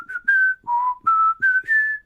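A person whistles a short song tune, six clear sustained notes rising and falling in pitch with brief gaps between them, close and alone.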